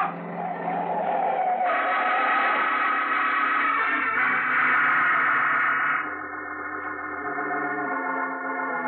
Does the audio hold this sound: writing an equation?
no